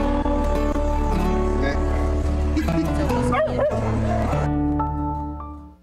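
Dogs at an animal shelter housing about 500 dogs and cats, yipping and whimpering in a continuous noisy chorus that stays loud throughout and fades out at the very end.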